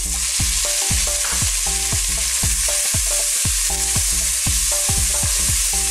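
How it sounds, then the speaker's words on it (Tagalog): Garlic, onion and tomato sautéing in hot oil in a cooking pot, a loud continuous sizzle close by, with a rapid, regular run of spoon scrapes and taps throughout. "Gigisahin lang po natin ito ng ilang minuto"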